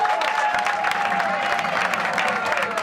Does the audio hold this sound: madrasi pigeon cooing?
no